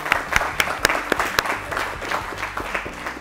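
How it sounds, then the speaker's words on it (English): Applause from the audience at a West Zone PCRA school quiz fills the room briefly, a dense patter of claps with a few sharper hand strikes, at moderate loudness and with no talking. "Let's clap, please."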